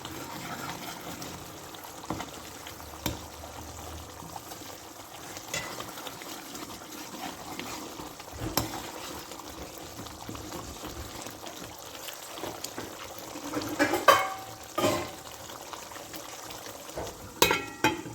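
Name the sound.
masala frying in a pan for potato egg curry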